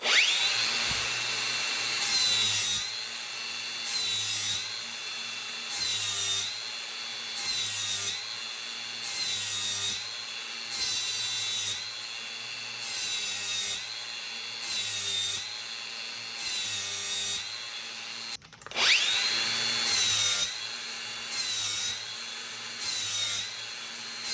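A 4.5-inch angle grinder with a 40-grit disc sharpens steel mower blades from a Cub Cadet Ultima ZTS1-50, giving a steady high whine broken into repeated grinding passes of a second or two each, close and loud, with a brief dip near the end.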